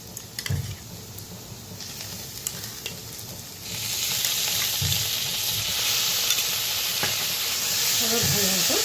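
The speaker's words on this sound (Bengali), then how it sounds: "আবার ভালো মতো নেড়ে চেড়ে নেব।" Sour yogurt stirred into a spice masala already frying in a pan, seasoned with Kashmiri chilli powder: a steady sizzle jumps louder and hisses harder once the yogurt goes in, with scraping stirs throughout.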